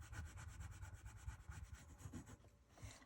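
A Sharpie marker scratches steadily across paper while shading a portrait drawing, rapid rhythmic back-and-forth strokes close up and soft, continuing without pause before easing near the end.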